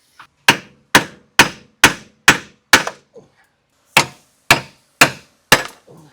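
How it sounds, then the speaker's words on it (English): Hammer strikes on a chisel and punch knocking rivet heads off a Can-Am Defender HD11 rear frame, sharp metallic blows in a quick run of six, a pause, then four more, close and loud. "it may be easiest just to use a chisel and a punch to knock the heads off"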